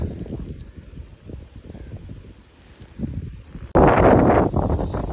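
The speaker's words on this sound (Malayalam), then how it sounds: "നല്ല കാറ്റ് സുഖസുന്ദരമായ കാറ്റ് ഓല ആടുന്നുണ്ടോ" Strong wind sweeps across an open area with swaying palm fronds, a low steady rumble that suddenly bursts into a loud, rough gust battering the microphone.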